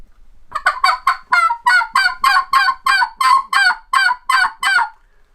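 A hand-blown turkey hen tube call gives a clear, goose-like yelping run of about a dozen evenly spaced notes, loud and close with nothing else heard.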